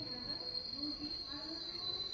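The Ernakulam to Kannur Intercity train stands at Aluva station's third platform, giving off a faint, steady rolling rumble with a thin high whine overhead, distant and low in level.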